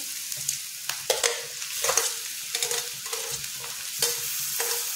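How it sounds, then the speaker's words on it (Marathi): Onion and tomato stir-fry in a pan while being pressed down, giving a steady close sizzle broken by repeated scraping strokes of a spoon against the pan, with no voices. "तोपर्यंत आपल्याला हे असं दाबून परतायचं आहे"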